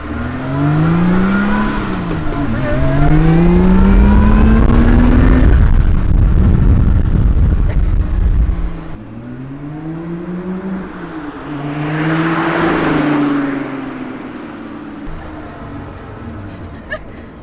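A Lotus 3-Eleven 430 sports car engine revs up through rising gears, roaring loudly, easing off, then accelerating again with a rushing whoosh.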